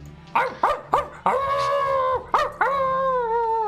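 Several dogs in a fantasy video game bark in short yelps that rise into long sustained howls, loud and close, with a few overlapping voices and no speech.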